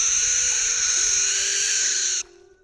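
A barn owl's screech: one long, loud, hissing scream held steadily for about two seconds before it cuts off abruptly, leaving faint background.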